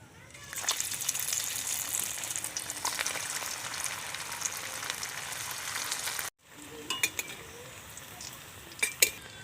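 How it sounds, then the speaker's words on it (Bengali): Oil sizzles and crackles steadily as semolina snacks deep-fry, with occasional clinks of a metal utensil against the pan. "বাকি স্ন্যাক্সগুলো আমি একইভাবে ভেজে নেব"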